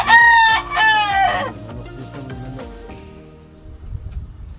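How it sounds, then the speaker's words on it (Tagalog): A rooster crows once, loud and close, then the call fades into quieter background rustling. "Marinig mo dito manok lang."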